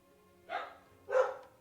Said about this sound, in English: And now both my dogs are going off.